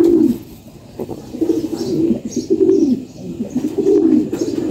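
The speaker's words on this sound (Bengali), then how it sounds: "কবুতরের বাচ্চা।" Pigeon sounds come from a loft where a pigeon chick sits in the nest: a close, low, throaty cooing repeats in bursts with short gaps between them, and no one speaks.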